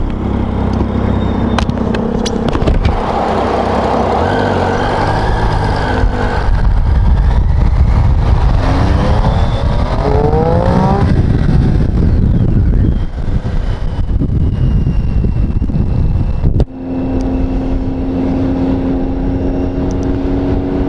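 A Peterbilt truck's engine runs steadily, loud and close, a dense low rumble with rising harmonics as the revs climb midway, then settling to a steady idle drone; wind buffets the microphone throughout.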